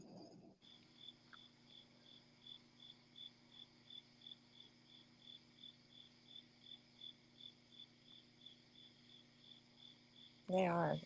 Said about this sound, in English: The crickets are kicking.